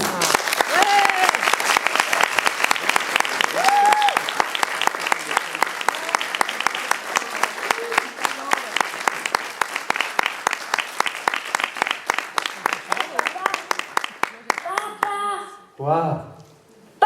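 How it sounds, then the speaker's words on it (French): Warm audience applause welcoming a comedian onto the stage, a dense crowd of clapping that breaks into scattered rhythmic claps before fading, with voices talking at the end. "sous vos applaudissements chaleureux, merci d'accueillir Freddy Walls"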